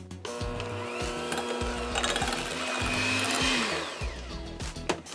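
An electric hand mixer beating cream cheese whirs steadily, its beaters knocking rhythmically against a bowl as the motor pitch rises and falls slightly.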